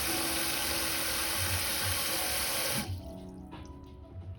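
Tap water pours steadily into a container while mixing raw clay for processing, a loud continuous rush that drops abruptly near the end to a quieter trickle with faint clinks.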